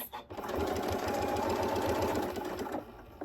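Sewing machine stitching a seam on a two-toned zipper tote bag, a steady, loud, rapid mechanical run lasting a few seconds with a brief start and stop, alone with no talk.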